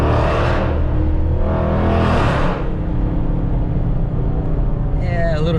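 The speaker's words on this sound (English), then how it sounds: "gotta love that exhaust note" Loud, steady engine drone and rumble from a 5.7 Hemi with 3.70 gears under a hard acceleration pull beneath an overpass, with broad roaring swells in the first couple of seconds.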